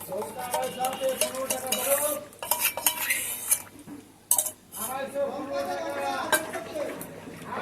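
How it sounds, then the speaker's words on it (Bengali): A ladle stirs milk and curd in a steel bowl, giving repeated close scraping swirls and light metallic clinks in an uneven rhythm, with a person talking over part of it. "আর হাতা দিয়ে অল্প অল্প করে হাতা দিয়ে আমি নাড়তে থাকবো।"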